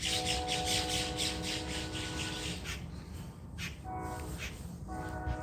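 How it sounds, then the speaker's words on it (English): Birds call loudly on a morning outdoors, with repeated harsh squawking calls layered over a steady background, fairly close and continuing throughout. "There's so many loud birds this morning."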